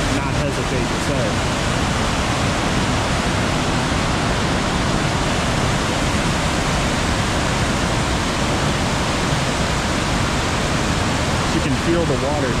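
Powerful rushing water of the Willow River roars steadily and loudly, a dense, unbroken wash of spray and flow heard close up throughout.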